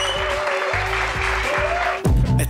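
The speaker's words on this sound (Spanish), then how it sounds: "Un fuerte aplauso para Saca, para Sara" An audience applauds a rap battle performer on a Spanish stage show, a steady wash of clapping over a music bed that then gives way to a loud closing jingle.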